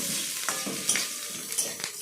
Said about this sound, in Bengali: লঙ্কাটা একটু ভেজে ভেজে দেবো